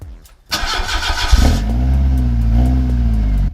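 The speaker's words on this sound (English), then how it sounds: "the van sounds quite throaty there, doesn't it, without that back box" Van engine with the exhaust back box removed starts up after a brief crank and settles into a loud, throaty idle with a slight rev, heard close and alone.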